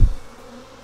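Honey bees buzz at an open, defensive hive during a split, a steady low droning hum close by after a brief louder thump at the start.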